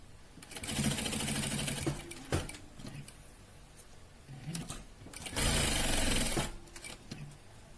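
A sewing machine stitches fabric pieces for a sling bag, running in two loud, fast whirring bursts separated by quieter pauses with handling clicks.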